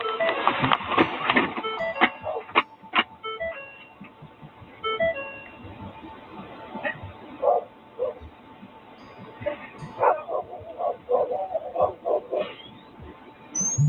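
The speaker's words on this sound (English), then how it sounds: "there's two aggressive dogs in the yard" Two aggressive dogs barking and yipping in a yard outside a burning house, heard through a muffled, narrowband recording as scattered barks, at times near and at times farther off, mixed with rustling and background noise.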